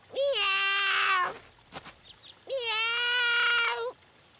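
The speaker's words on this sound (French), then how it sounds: "Oh, un chaton, le pauvre!" Kitten stuck up high in a French children's cartoon gives two long, clear, plaintive meows, each over a second, with a faint scuffle in the pause between them.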